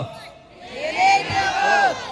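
Crowd at a mayoral campaign rally in Real, Quezon shouting a chant together, a loud massed roar of voices swelling near the mic.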